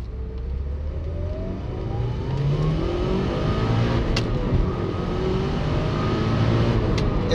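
Mitsubishi Evolution with a close-ratio five-speed pulling hard at highway speed, the engine note steadily climbing under sustained acceleration, heard loud and continuous from inside the cabin with road and wind roar beneath.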